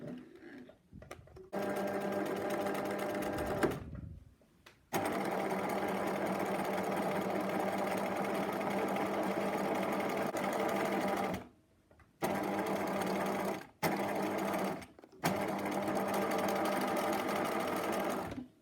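A sewing machine runs a French seam along fabric in long, steady whirring stretches of stitching, close and loud, broken by a few short stops and restarts.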